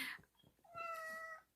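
Indoor cat meowing close by: a short, sharp call followed by a longer, rising and falling meow, fairly faint.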